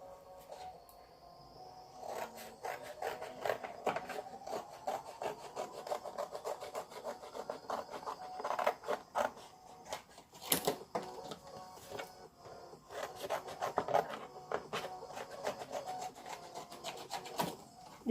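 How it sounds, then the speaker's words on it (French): Cardboard being cut around a paper piece for a paper drawing project, a steady close scraping and rasping with irregular louder strokes throughout, no talking. "Couper le carton autour de la pièce."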